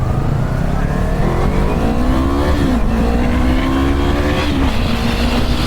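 A 300cc Yamaha R3 sport motorcycle accelerates hard through the gears, its loud, close engine note climbing in pitch, dropping at each shift, then rising again, over heavy wind noise.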